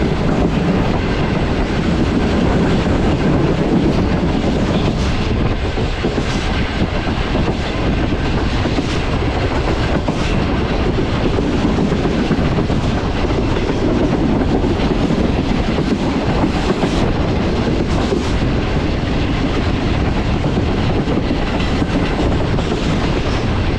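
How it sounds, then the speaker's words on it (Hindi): Karakoram Express train running through Ran Pathani railway station at good speed, a loud continuous rumble with rapid clattering of wheels over rail joints lasting throughout. "काफ़ी अच्छी स्पीड में थ्रू पास करेगी अभी हमारी ट्रेन 41 अब कराकोरम एक्सप्रेस"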